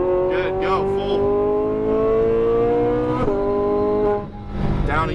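A Lamborghini Huracan Performante accelerates hard on a race track at EXR Las Vegas. Its engine is loud and close, revs climbing steadily, then briefly dips with shifts near the middle and end, and a voice speaks over it.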